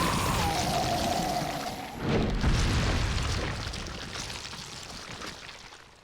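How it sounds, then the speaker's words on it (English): A rocket launcher blast in Resident Evil 4 lands as a heavy boom, followed by a long rumbling, crackling decay that fades out slowly. "the rocket launcher makes that real quick"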